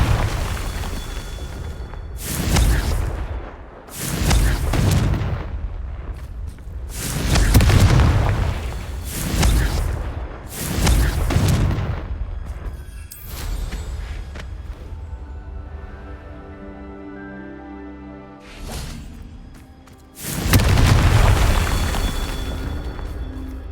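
Confringo blasting spells from a Harry Potter video game erupt as a series of heavy booming explosions, roughly six loud blasts with rumbling tails, separated by quieter stretches of ringing game ambience.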